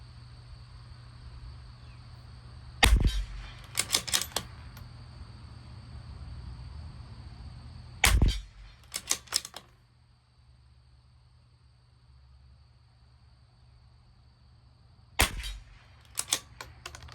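Sharp, loud rifle shots from a Bergara B14r Carbon firing SK Standard Plus ammunition at a 50-yard range, each crack followed by quick echoing reports, in three separate bursts over a steady low outdoor hum.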